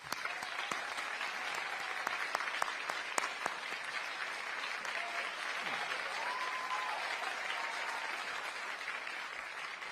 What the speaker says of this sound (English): Commissioner Dennis Moss, Mr. Chairman, please give him a round of applause.